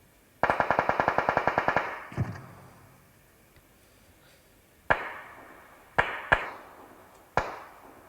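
Gunfire in the battle-royale game PUBG: a rapid automatic burst of about a dozen evenly spaced shots, then a few sharp single shots scattered over the following seconds, with no talk.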